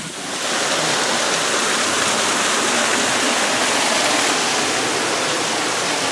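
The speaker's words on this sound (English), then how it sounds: "Let's go behind that waterfall." A waterfall roars continuously in an outdoor garden setting, a dense, loud, close rush of falling water with no gaps.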